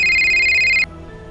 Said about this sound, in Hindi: फोन बज उठा